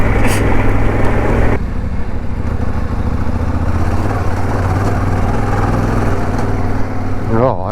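A motorbike ridden in high gear through sand on a trail: a loud, steady engine drone holds close throughout, shifting slightly in tone near the end.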